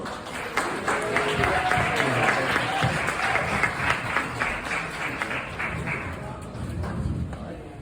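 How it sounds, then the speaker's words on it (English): An audience breaks into sustained applause welcoming a speaker to the stage at an evening talk, loud and steady for several seconds, with cheering voices and crowd chatter mixed through the clapping. "please give a round of applause"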